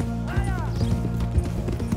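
Horse hooves clip-clop at a steady walk while a rider approaches the stables in Red Dead Redemption 2, with a brief whinny and music running beneath.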